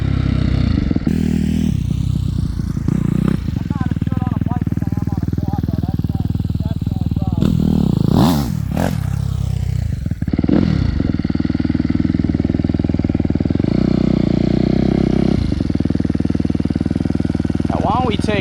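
A Suzuki RMZ250 dirt bike launches for a wheelie hole shot, engine idling then revving hard in a loud rising burst before backing off, with someone talking over much of it.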